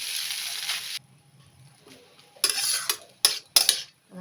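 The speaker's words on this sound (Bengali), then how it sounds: "এবার এর মধ্যে চাউমিনটা অ্যাড করে দেবো। সব ভাজা হয়ে গেছে, এটাকে একটু মিক্স করে নেওয়া তাহলে।" Fried white chow mein gets tossed and mixed in a pan. There is a long hiss, then a quiet gap, then several loud bursts of utensil scraping and clattering against the metal.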